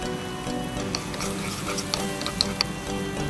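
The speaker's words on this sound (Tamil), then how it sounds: "வெட்டி வச்சுருக்கிற வெங்காயம் சின்னதாக நறுக்கி வச்சுருக்கோம் இல்லையா, அது சேர்த்து வதக்க போகிறோம்" Small-chopped onions sautéing in hot oil in a pan, a soft steady sizzle with occasional light scrapes and clicks of a stirring spoon, fairly quiet and close.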